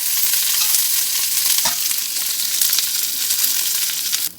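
Black pepper and curry leaves frying in a pan for karivepaku karappodi, a steady close sizzle with stirring scrapes running throughout, with no voices.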